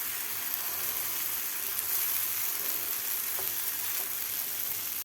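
Moong dal batter sizzling in a hot pan, a steady dense frying hiss that holds evenly at close range throughout, with a couple of faint ticks and no voices.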